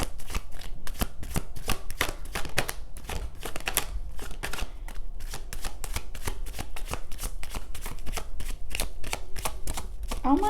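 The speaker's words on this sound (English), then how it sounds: "that's never happened where I shuffle that many times and nothing comes out" Tarot cards shuffled over and over in a close, steady stream of crisp riffling slaps and flutters, a brief voice surfacing only at the very end.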